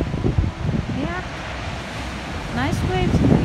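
Broad rushing ocean surf noise at a beach in the Algarve, Portugal, in winter, with wind buffeting the microphone, steady throughout, with faint voices in the background.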